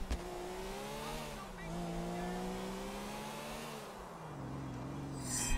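Car engine in the video game GTA IV, a steady droning hum that rises and falls in pitch as the car drives and changes speed, with a brief sharp noise at the end.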